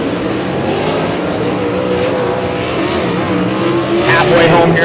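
Sprint cars racing in a heat race at Humboldt Speedway: loud, continuous engine roar with rising and falling pitch as cars power around the dirt track, a race announcer talking over it.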